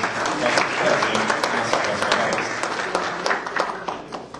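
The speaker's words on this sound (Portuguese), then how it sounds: "Vamos aplaudir o Wilson da Silva, gerente de vendas" An audience at a business talk applauds the sales manager as he is introduced, a moderately loud, steady patter of clapping with a few sharper individual claps standing out across the stretch.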